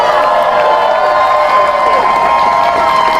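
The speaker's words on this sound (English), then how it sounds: "if we can first have a round of applause for the Starbucks workers themselves" A dense crowd claps and cheers loudly for striking Starbucks workers in New York City. The applause and shouts are continuous and fill the whole clip.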